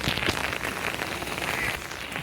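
Steady rain falls across a village, a dense even hiss of drops on surfaces with a few louder splatters, continuous and fairly close throughout.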